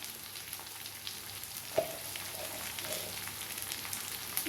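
Shredded cabbage sizzles in a frying pan for vegetable Maggi, a steady crackling hiss with one soft clink near the middle.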